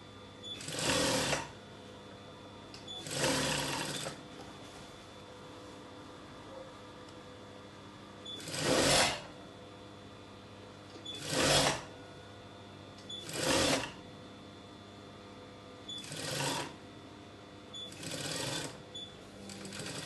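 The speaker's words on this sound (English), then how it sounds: "just flip it down and sew." Sewing machine stitching a pinafore dress in about seven short, even bursts with quiet gaps between them, close and moderately soft.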